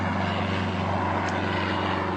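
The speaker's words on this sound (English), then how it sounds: "That's a single-engine plane looking for a place to land." A single-engine propeller plane flying low, a loud continuous droning engine hum with steady tonal harmonics, close and alone, without any talk.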